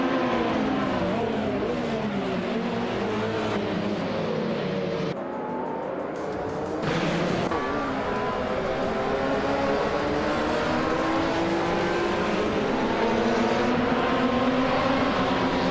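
Several race cars engines drone and whine continuously in a racing video game, led by a 2010 Aston Martin Vantage GT4 at the Aviano GP circuit, with layered revving pitches shifting as cars jostle, no talking.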